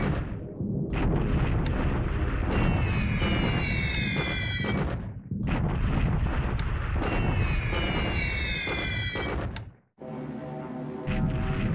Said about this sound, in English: Ooh, that's a pretty devastating bombing